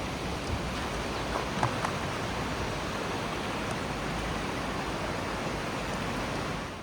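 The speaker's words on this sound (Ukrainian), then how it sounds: "Просто шум річки." A steady, broadband rush of flowing river water in Yaremche fills the whole stretch, constant and even with no voices or other distinct sounds.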